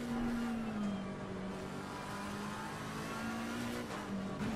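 Race car engines at Suzuka in Assetto Corsa Competizione drone steadily, a sustained mid-pitched note that dips and climbs slightly as cars run close together, with no talk.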